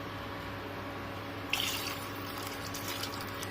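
Water poured into a cooking pot for haleem, a steady faint trickling pour beneath a constant low hum that grows brighter and splashier midway through.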